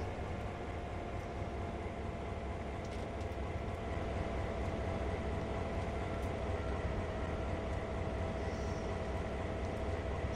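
A train in Train Sim World 3, heard as a steady low rumble and hum of the rolling locomotive, constant and moderately distant throughout, with faint clicks on top and no talk.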